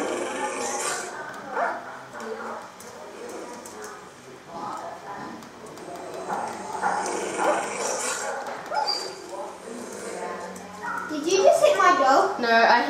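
A wild dog in the Minecraft video game barks and yips amid lively game sounds, heard under near-continuous talking by a player, with the barking rising toward the end.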